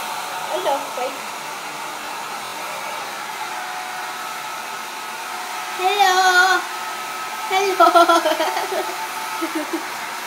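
A hair dryer blows steadily and close throughout, a constant airy whir, while a voice breaks in briefly at the start and chuckling or talking rises over it twice later on.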